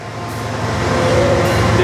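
Freight train rolling slowly past a rail junction near a depot, a steady loud rumble with low mechanical drone holding throughout, close by and with no voices.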